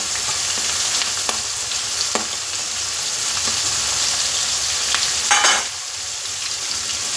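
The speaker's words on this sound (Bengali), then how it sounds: "আলু আর ডাঁটা সব একসাথে ভাজি" Potatoes and vegetable stalks fry together in catla fish oil with onion and green chilli, giving a loud, continuous close sizzle broken by occasional scraping stirs of a spoon in the pan.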